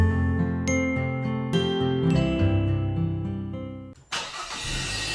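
Car engine starting in a fuel advertisement: a tinkling musical jingle with chimes plays first, then a starter crank and engine catching near the end, loud and clear with no talk.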